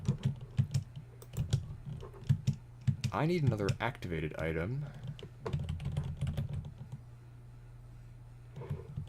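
A loud computer keyboard clatters with rapid, close key clicks during a Risk of Rain 2 game stream, continuing under and around a man's speech.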